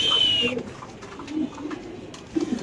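Pigeons at a pigeon farm selling Spanish pigeons, eggs and squabs, giving soft low cooing that repeats in short pulses through the whole stretch, moderately close, with a brief thin bird whistle at the start.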